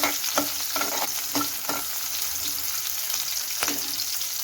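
Onions fry in a pan for tomato chutney, giving a steady close sizzle broken by several sharp scraping stirs of a utensil against the pan.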